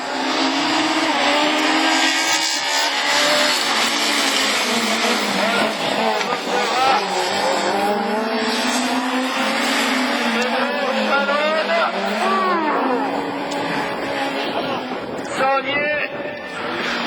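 Super 1600 rallycross cars at a French championship round in Lessay roar off the start together, engines loud and sustained with tire noise, while an excited commentator talks continuously over them.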